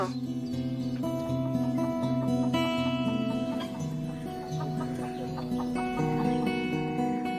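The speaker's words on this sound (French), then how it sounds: "il y a des poules en effet" A flock of about twenty hens clucks continuously at a campsite in Bourgogne-Franche-Comté, overlapping calls rising and falling nearby without pause.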